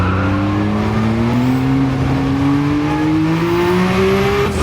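Porsche 956 race car engine accelerating hard at the Nurburgring, recorded onboard: one loud, sustained engine roar that climbs steadily in pitch through the gear with no break, and no talk.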